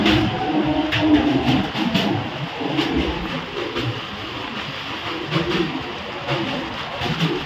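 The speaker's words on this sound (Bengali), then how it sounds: "ট্রেন এখন বালিঘাট ছেড়ে যাচ্ছে পরবর্তী স্টেশনের দিকে।" Local train pulling away from Baliaghat station near Dakshineswar, a steady broad rumble of wheels and carriages with faint clatter throughout, close and continuous, with bird calls and faint voices in the background.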